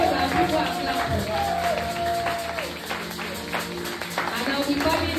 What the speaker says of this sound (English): Let the room go and people are clapping.